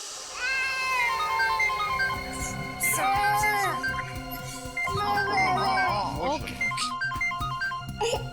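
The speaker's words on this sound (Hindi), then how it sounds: "एसीपी साहब का फोन।" A melodic phone ringtone plays loudly, cycling through bright stepped chime tones in a repeating tune.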